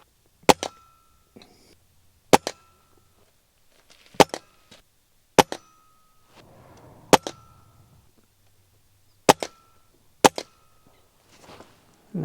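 A Ruger Impact Max .22 or Gamo Swarm Magnum pellet air rifle fires Gamo Rocket pellets at a 25-yard target: seven sharp, loud cracks spaced a second or two apart, with faint handling noise between shots.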